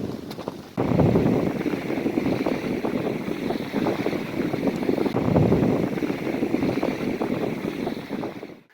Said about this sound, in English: Super windy, huh?